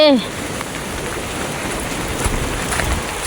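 Heavy rain from a strong storm pours steadily and densely on surfaces near flooded rice fields, a continuous hiss of rain with no talking.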